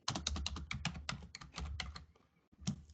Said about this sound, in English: So I'm going to type chk config,